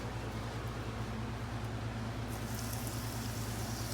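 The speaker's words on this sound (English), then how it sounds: "Hear that sizzle." Panko-breaded butterflied shrimp sizzling steadily in hot frying oil, a dense continuous hiss with faint bubbling, close and even throughout with no talking.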